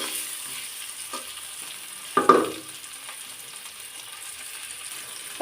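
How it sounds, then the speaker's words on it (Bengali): Potatoes fry in a pan for vegetable biryani with a soft, steady sizzle close by. One sharp scrape of stirring stands out midway and a brief clatter comes at the end. No one speaks. "আলুটা প্রথমে আমি দুই মিনিটের মতো ভাজি করে নিচ্ছি"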